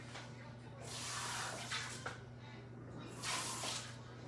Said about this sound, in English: Gonna rinse the seeds out.